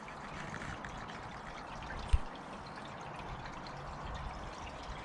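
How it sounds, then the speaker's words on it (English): Pond water from a biological filter runs steadily through a shower unit outdoors, a constant splashing trickle with a single brief knock partway through. "the biological filter through the shower is still running"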